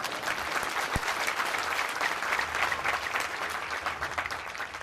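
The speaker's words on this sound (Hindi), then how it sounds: "तालियां हो जाती।" Loud, dense applause from a crowd at a devotional gathering for a revered guru, a steady wash of clapping that runs unbroken from start to finish with no voices over it.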